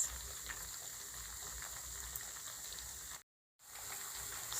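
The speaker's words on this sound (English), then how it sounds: "I'm done frying my plantain" Plantain frying in hot oil in a Nigerian home kitchen gives a steady, dense sizzle that carries on continuously, broken by one short moment of silence.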